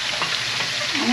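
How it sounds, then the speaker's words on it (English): Ribs fry in hot grease with a steady, close, crackling sizzle, loud and continuous throughout the short moment. "We got some good sizzle."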